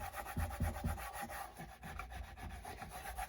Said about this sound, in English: let me go ahead and grab my scraper here and just kind of scrape it down here